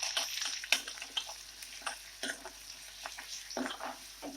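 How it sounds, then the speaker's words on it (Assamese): Ginger garlic paste and green chillies fry in hot oil with a quiet, steady sizzle. Irregular scraping stirs and taps of a spatula on the pan recur, close and fairly faint. "এতিয়া অকণমান আদা নহৰু পেষ্ট দি দিলোঁ"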